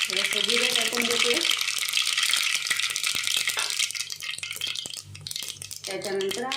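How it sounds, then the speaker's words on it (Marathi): Mustard seeds and cumin crackle and sizzle in hot oil for a khichdi tempering, a busy spitting hiss that runs steadily through the middle, with a voice heard briefly at the start and again at the end. "आता मी खिचडीला फोडणी करून घेत आहे। त्याच्यासाठी मी आता सुरुवातीला मोहरी टाकून घेतलेली आहे, थोडंसं जिरं टाकून घेते"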